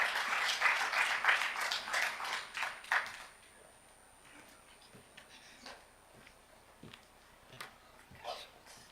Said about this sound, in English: Please, a round of applause as she joins me on stage.